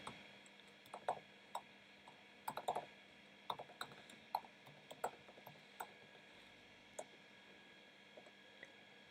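Quiet typing on a computer keyboard, irregular bursts of light key clicks with short pauses between groups, close by over faint background hum.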